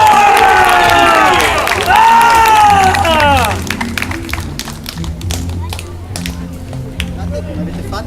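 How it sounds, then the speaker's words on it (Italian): Audience at an outdoor animation show applauding, dense clapping and cheering under a loud singing voice at first, thinning into scattered individual claps and taps toward the end. "Un applauso!"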